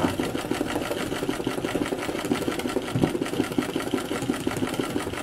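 Sewing machine stitching free-motion scribbly embroidery for a landscape piece, a steady fast-running mechanical whir with a rapid needle chatter, close and continuous throughout.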